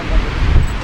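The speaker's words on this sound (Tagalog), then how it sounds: "Ang lakas ng hangin" Rough, rumbling wind buffets the microphone in a brief, gusty burst, with a low roar throughout, at a campsite at Malico Viewdeck, Pangasinan.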